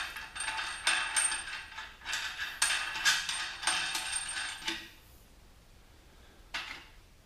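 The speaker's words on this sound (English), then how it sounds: "place the last nut and washer" A nut and washer are fitted by hand onto a steel stiffening rod at the rear casting of a Minneapolis-Moline prototype 445 tractor under restoration, giving a run of close metallic clinks and rattles, then quiet and one last clink.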